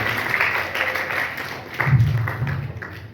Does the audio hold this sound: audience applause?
yes